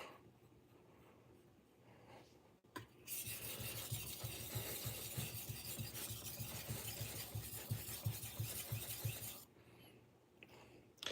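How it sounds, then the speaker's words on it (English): A kitchen knife being sharpened, a quiet, close run of fast rhythmic scraping strokes that starts after a pause and stops suddenly, leaving near silence. "And we're going to sharpen this side of the knife."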